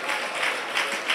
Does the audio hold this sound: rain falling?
no